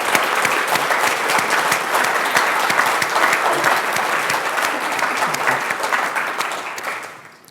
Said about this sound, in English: can we just give them a massive round of applause?